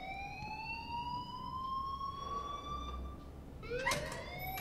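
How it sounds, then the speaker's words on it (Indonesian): A wailing alarm from the video game Life is Strange rises steadily in a long tonal sweep, then a second sweep starts near the end, fairly quiet and with no talking over it. "please turn off that alarm since that's your job"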